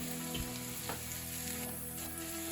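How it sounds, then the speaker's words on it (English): A butter and flour roux bubbles in a pan with a dense, continuous sizzle and occasional stirring scrapes, close up against a low steady hum. "Now we're going to add the flour. We're going to keep going until we have our roux."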